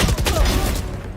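Gunfire in the video game Valorant during a ranked match, a short close burst of several loud overlapping shots that fades slightly toward the end.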